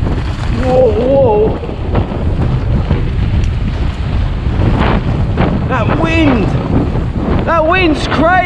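Strong wind roars steadily across the microphone during an e-bike ride on a UK trail, loud and close throughout, with riders talking and calling out over the buffeting.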